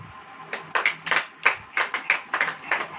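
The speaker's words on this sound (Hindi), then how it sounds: "ताली बजाओ।" A church congregation claps hands in a steady rhythm, roughly three claps per second, moderately loud and close, with no talking over it.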